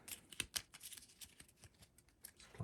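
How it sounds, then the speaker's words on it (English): Game cards for a tabletop wargame being shuffled by hand, a faint, quiet run of quick papery riffles and snaps in an irregular rhythm close by, with no talking. "I'm just going to shuffle these."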